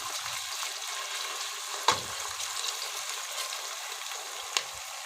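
Green onions frying in a pan, a soft steady sizzle with a couple of sharp clicks or taps from the pan.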